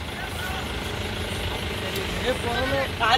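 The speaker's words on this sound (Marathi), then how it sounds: "तर मित्रांनो आता बघू शकता मी मल्हारला आम्ही टेम्पो चढवतोय." A tempo truck idles with a steady low diesel throb as a bull is loaded onto it, with voices close by and a brief louder burst of activity at the end.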